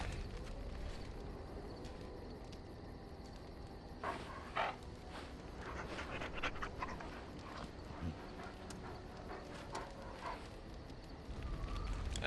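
A dog in the Dragon Age Origins video game pants and softly whimpers, a quiet, steady breathy sound with faint whines running throughout, with no talking.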